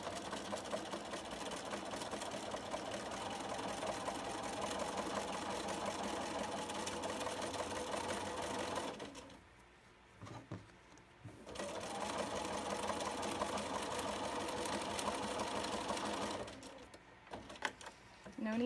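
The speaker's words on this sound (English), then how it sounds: "all you're going to do is simply stitch along the lines that you've drawn." A home sewing machine stitches steadily along marked lines in a sashiko-style project, a close, continuous mechanical whir that stops briefly twice, with a short pause near the middle and another near the end.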